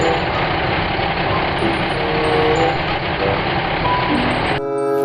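Loud mechanical whirring and rattling from a toy cement mixer truck runs throughout, with repeated electronic reversing beeps over it. A toy jingle cuts in near the end.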